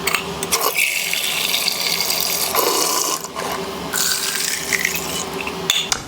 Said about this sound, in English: the first step is to add the water. So I add 4 cups of water